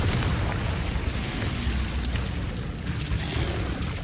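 Explosive Confringo spell bursts in Hogwarts Legacy combat, a loud, dense blast of low rumbling booms that stays heavy and continuous for several seconds.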